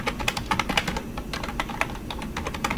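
Steady clatter of keys on a computer keyboard in irregular bursts, close and moderately loud, with no voices.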